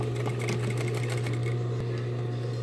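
A straight-stitch sewing machine runs steadily, sewing a double topstitch on a large multipurpose bag, with a continuous close motor hum and rapid needle clatter and no pauses.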